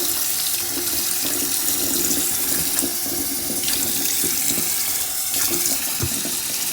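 Cold well water runs steadily from a tap into a glass, a continuous loud close splashing rush that fills the whole stretch without talk.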